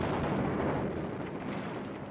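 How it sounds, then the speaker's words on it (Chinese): Enemy aircraft bombing a village during the Korean War, heard as a dense, continuous roar of explosions and rumbling blasts, loud and unbroken throughout with no talk. "此时敌机依然不停地轰炸"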